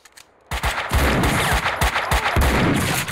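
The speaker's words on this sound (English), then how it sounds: "Try to shoot us with a shotgun as well." Rapid shotgun blasts and gunfire from the video game Max Payne 2 erupt after a brief quiet moment, a dense run of heavy booming shots, loud and close, with no talk over them.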